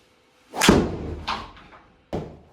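A Cobra 3-wood strikes a golf ball outdoors, one solid thud followed by a whooshing tail, then a couple of fainter knocks and a second sharp impact, close and moderately loud.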